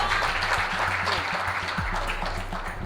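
Students at a school quiz match between Lycée Jeunes Filles Bouaké and Notre Dame Abengourou break into loud, dense applause after a correct answer, a continuous wash of clapping over a low musical hum.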